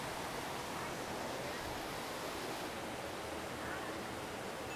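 Steady rushing water from a waterfall at a mini golf course, a continuous broad hiss heard fairly close with no voices.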